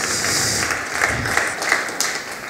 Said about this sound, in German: Lass uns David einen großen Kambodscha-Applaus geben.